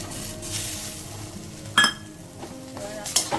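Prawns with kochu leaf being stirred into a ground mustard, poppy seed and green chili paste in a pan, giving soft scraping stirs with a couple of sharp utensil clinks against the metal, faint kitchen hum underneath.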